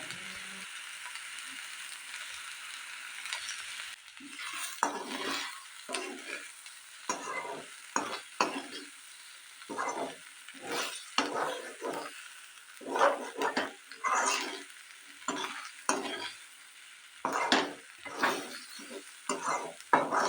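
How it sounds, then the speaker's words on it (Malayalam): Soya chunks frying in a pan, stirred at intervals, giving bursts of scraping and sizzling separated by brief quieter gaps. "ഇടയ്ക്കിടയ്ക്ക് ഇങ്ങനെ ഒന്ന് മിക്സ് ചെയ്ത് കൊടുക്കൽ മാത്രമേ ഉള്ളൂ"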